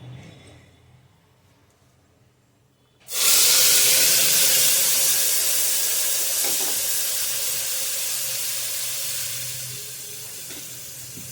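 Ground spice paste hits hot oil already seasoned with bay leaves and starts to fry with a sudden loud hiss, then keeps sizzling steadily and close up, fading slightly as it settles, with no voices.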